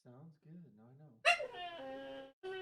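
A dog named Daisy whines in rising, wavering whimpers, then lets out a sharp, close bark followed by a long, drawn-out whine that pauses and starts again, heard indoors with no talk in between.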